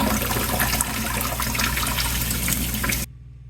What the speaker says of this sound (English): Rinse in cold water, Amber, not warm.